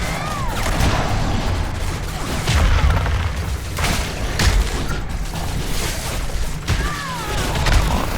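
A monster's fire breath attack in the video game Evolve roars out as dense, rumbling bursts of flame that hold steady for several seconds. Booming impacts and gameplay clatter fill the mix throughout, loud and close.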